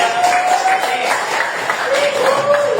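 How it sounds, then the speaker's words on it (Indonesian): A class claps in a lesson, steady crowd-like applause from many hands, with voices faintly audible underneath. "tepuk tangan dulu buat bangsa Indonesia"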